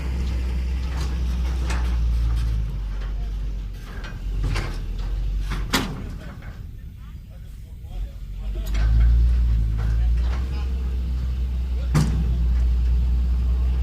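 Large HINO Mega 260 dump truck pulling a trailer loaded with big rocks, its deep engine rumble steady and close, swelling as it moves off, with voices talking over it.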